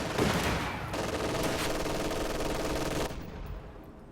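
MG42 machine gun fire in a World War II video game, a dense sustained burst of rapid automatic shots lasting about three seconds before cutting off, loud and close over a busy battle background.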